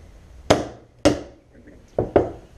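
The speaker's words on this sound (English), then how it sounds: "Just pound and pull, and there comes your bushing." A hammer pounds a Delrin bushing out of a pulley in a machine shop, four sharp metallic knocks in an uneven rhythm, close and loud, with quiet between blows.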